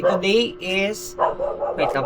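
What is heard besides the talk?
dogs barking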